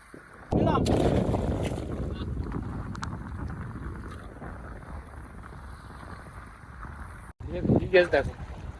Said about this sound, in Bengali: আর হাওয়াও হচ্ছে সেই জোরে হাওয়া হচ্ছে।